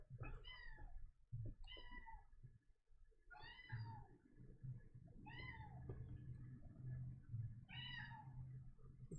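A cat meows about five times at uneven intervals, each call clear but fairly soft, over a low steady background hum.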